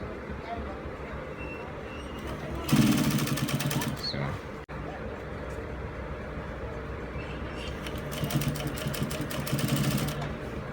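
Sewing machine stitching piping along a curved kaftan neckline, running in two bursts of steady whirring with quieter handling and background noise between them.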